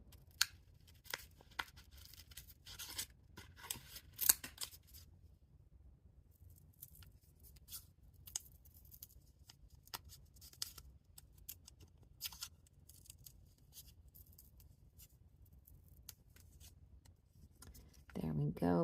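Scissors snip through felt while a pocket turkey craft is made, giving quiet, close, crisp cuts in quick clusters early on, then sparse isolated snips over a soft background.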